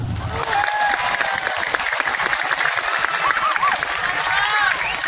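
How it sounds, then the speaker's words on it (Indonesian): Applause from a religious lecture audience fills the space steadily, a dense wash of clapping with voices and shouts mixed in throughout. "Tepuk tangan untuk pejuang mahar."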